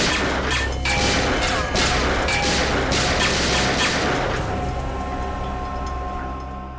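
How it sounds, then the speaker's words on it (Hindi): Gunfire in a Hindi TV crime drama scene: a burst of loud, sharp shots and impacts cracks out in quick irregular succession, crowding the first few seconds, then thins as a lingering rumble fades. "क्यों फिजूल में कानून की गोलियां बर्बाद कर रहे हो दया?"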